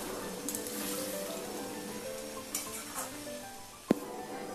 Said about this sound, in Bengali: ভালো করে এবার মিশিয়ে নিচ্ছি।